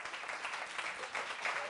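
A young volunteer gets more applause from an audience after a magic trick; quick, dense clapping stays steady throughout.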